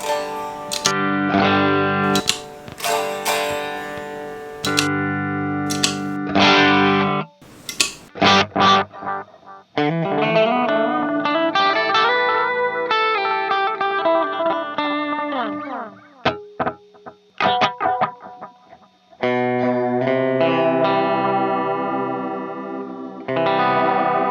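Electric guitar played through budget NUX effects pedals with drive and master at maximum plus reverb, giving loud distorted, chorus-tinged chords and notes in phrases separated by short pauses.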